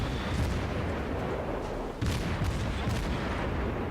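The guns of an Omaha warship fire in a video game battle, a dense run of booming shots that goes on without a break, with a short dip midway and no voices.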